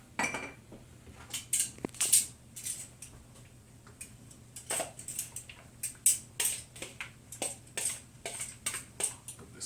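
Zucchini noodles being tipped into a pan and mixed give a run of close, irregular clinks, taps and scrapes of utensil on cookware over a quiet background.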